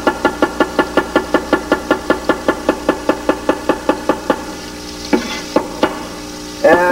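Knife slicing green onions very thin on a cutting board in a kitchen, a rapid even series of crisp chopping taps, close, then slowing to a few scattered cuts.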